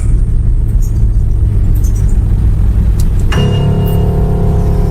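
A car's engine and tyres rumble loudly and steadily from inside the vehicle, with a faint chime and a shift in engine tone near the end.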